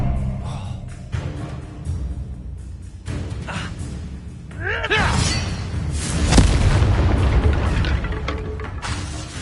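Booming magical blasts from the Confringo explosive spell in Hogwarts Legacy, a series of heavy thuds and bursts with a swelling explosive roar in the later half, loud and close with game effects layered over it.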